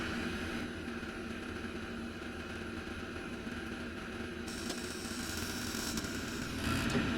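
A propane workshop heater's burner fires up, giving a steady, loud broadband roar that swells brighter near the end, with no talking over it.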